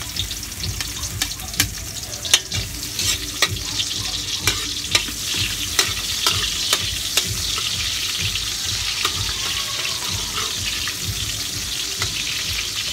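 Sliced onions fry in a pan, a continuous loud sizzle with repeated clicks and scrapes as they are stirred, no voices over it.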